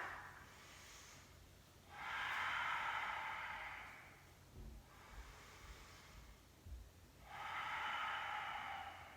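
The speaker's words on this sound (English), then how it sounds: "Inhale." Slow, deep yoga breaths in a quiet room, with two long airy inhales separated by a soft, faint pause, close and gentle.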